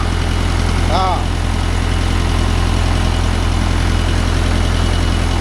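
A Mahindra 575 DI tractor engine runs steadily at idle after an alternator dynamo bearing change, a loud, constant low diesel rumble throughout, with faint talk nearby.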